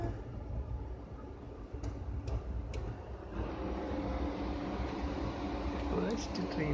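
Steady rumble and hum inside a moving passenger train, continuous and fairly loud, with a few faint clicks and a brief high squeal toward the end.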